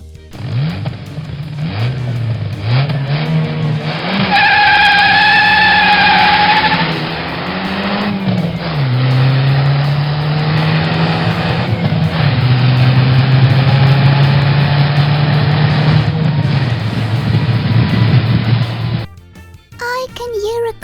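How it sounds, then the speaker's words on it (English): A car driving, its engine rising and falling in pitch as it revs and accelerates, fairly loud and close, with a voice speaking over parts of it. "I can hear a car from far away."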